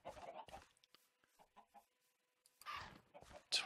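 Chickens in Minecraft, modded with Better Than Wolves, give soft, scattered clucks: short separate bursts with quiet gaps between them, then a louder cluster near the end.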